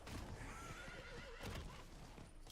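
Horse mount in Diablo IV whinnies clearly, with a wavering neigh rising over steady clip-clop hoofbeats of a gallop, loud and continuous alongside game ambience.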